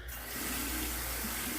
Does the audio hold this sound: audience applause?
no